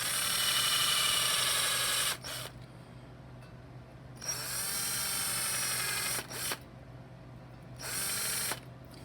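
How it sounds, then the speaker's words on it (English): A small drill with a 3/32 bit bores out a stubborn idle tube in a Quadrajet carburetor, whining loudly in three bursts of about two seconds each, separated by short pauses with faint low hum. "We take a 3/32 drill bit."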